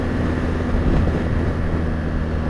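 A 2016 BMW R1200GS motorcycle engine rolling on in sixth gear gives a loud, steady low drone mixed with heavy wind roar, with a brief swell in the middle.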